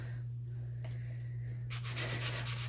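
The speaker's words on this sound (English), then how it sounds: "So first we're going to do is sand the bottom to make it nice and level." A bezel bottom is sanded on 500 grit wet dry sandpaper, a soft close scratchy rubbing over a low steady hum that grows into brisk rhythmic strokes toward the end.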